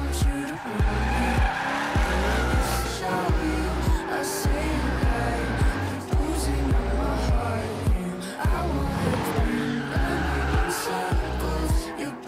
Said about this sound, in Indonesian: Saat itu Noah merasa sangat senang karena mendapat kesempatan dari Nick mengemudikan McLaren miliknya.